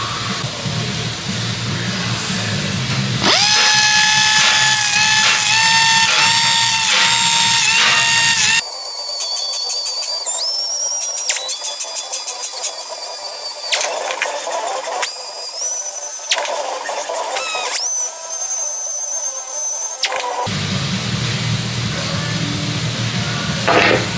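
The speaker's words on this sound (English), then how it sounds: "So from here now, I can blend the entire weld with the 120 pad." Angle grinder with a 120-grit pad blending and feathering a weld on a corner joint, a loud, close, high-pitched whine that changes pitch as the pad bites and eases off, running continuously with brief dips in load.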